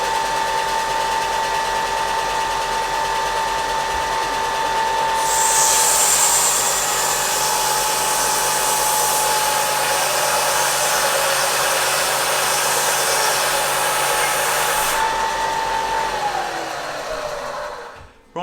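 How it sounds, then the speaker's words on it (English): A 350-watt electric sander runs steadily with a high whining hum, louder and brighter through the middle stretch, then winds down and stops near the end, powered from a portable power station in a workshop. "I've just seen the rating plate on the sander, 350 watts."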